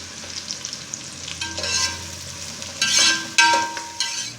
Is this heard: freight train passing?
no